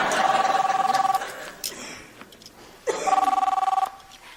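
Two bursts of an old-style telephone bell, trilling rapidly for about a second each with a short gap, loud and close, with faint background sounds between the rings.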